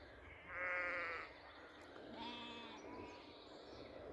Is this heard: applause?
no